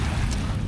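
Strong waves strike a dolomite pebble beach on Manila Bay, a steady low rumbling surge of water mixed with wind buffeting the microphone, with no voices.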